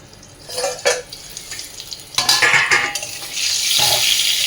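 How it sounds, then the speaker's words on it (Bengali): Pieces of tinda, round gourd, lightly frying in a pan: bright oil sizzle swelling and fading with short scrapes and clinks of a spatula against the pan, loud and close, turning into a steadier hiss toward the end. "তো এইভাবে হালকা ভেজে নিলেই হবে, বেশি ভাজার দরকার নেই"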